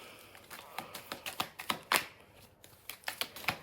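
Tarot cards shuffled by hand in quick, irregular flurries of crisp papery slaps and riffles, close and fairly quiet, with brief pauses between bursts and no talking.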